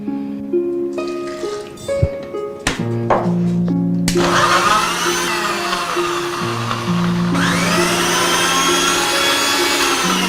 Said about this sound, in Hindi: कटे हुए पीसेस को हम मिक्सी में डालेंगे